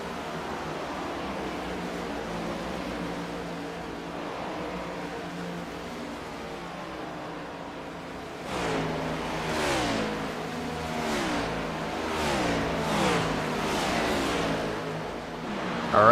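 A race car engine in the iRacing video game at Kentucky Speedway drones steadily and close, then rises into a louder, pulsing whine as it revs through repeated surges.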